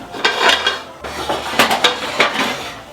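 A metal spatula presses spinach down into a pan of water, producing loud, close clanks and scrapes against the pan in uneven bursts, with no talking.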